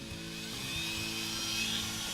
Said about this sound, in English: Dremel with the sanding drum and I'm going to round off this outside edge.